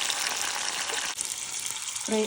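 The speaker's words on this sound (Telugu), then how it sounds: "ఆ పచ్చిమిరపకాయలు ఏవైతే ఉన్నాయో వాటిని ఇలా కోసుకుని మనం కొంచెం ఆయిల్లో ఫ్రై చేసుకోవాలి" Sliced green chillies frying in a little oil, giving a constant dense hiss and crackle, with a brief clink of a utensil near the end.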